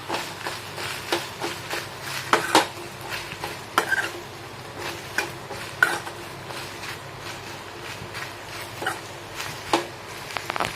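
Okra sautéing in a pan for sambar, with repeated scraping and clinking of a spoon against metal over a soft sizzle, the strokes coming at an irregular rhythm up close.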